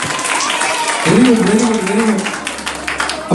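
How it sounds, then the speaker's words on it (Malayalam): Children's audience clapping at a church Vacation Bible School event, a dense patter of applause running through the clip beneath a loud, excited voice of an adult calling out to the kids. "കൈയടി പോരാ"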